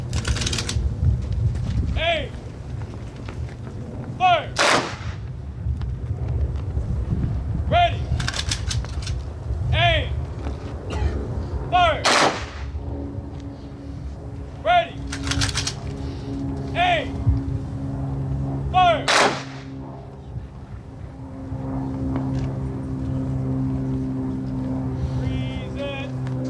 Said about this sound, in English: Blank ammunition, low.